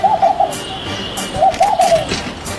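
A bird coos in two soft, rolling phrases close by, each a short series of low throaty notes, with faint background noise and no talking.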